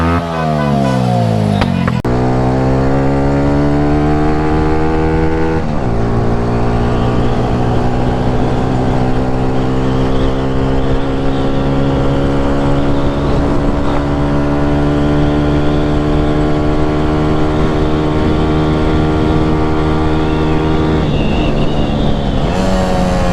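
A Bajaj 125 cc single-cylinder motorcycle exhaust revs repeatedly, the engine pitch climbing and falling in long sweeps, loud and close throughout.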